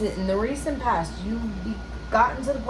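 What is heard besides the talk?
None of the usual background noises is heard.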